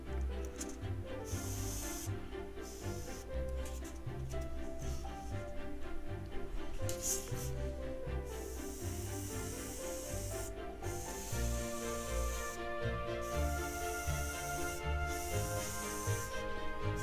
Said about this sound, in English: please send me a chat if it's annoying to hear that compressor.